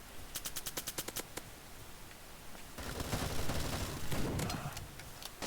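AK rifle fire in the Bullet Force mobile shooter, first a rapid run of sharp, evenly spaced shots, then a denser stretch of overlapping gunfire and action noise at a modest level.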